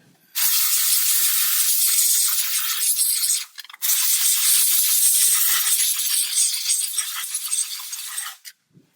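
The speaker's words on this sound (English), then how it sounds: "Another fantastic benefit of a steam cleaner is to clean the inside of the air vents" A steam cleaner blows a steady, loud hiss of pressurized steam into a car's interior air vents, running continuously with a brief break midway before resuming, then cutting off near the end.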